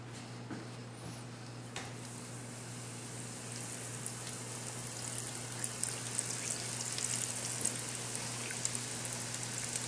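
Steady dense crackling and sizzling of chicken wings deep frying in hot oil, with a constant low hum underneath and occasional sharper pops.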